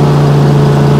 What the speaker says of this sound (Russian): Выставить максимальные обороты и включаем деку.